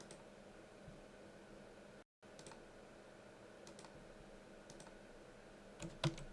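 Computer keyboard and mouse clicks while resizing pipe in a drawing program, a steady soft patter of keys and clicks under faint background hiss with a brief gap, ending in a couple of sharper, louder clicks.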